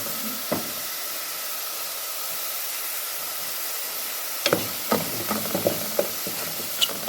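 Palabok sauce with mushrooms cooking in a pot gives a steady, even sizzle and hiss throughout, with a few sharp utensil clinks and stirring knocks toward the end.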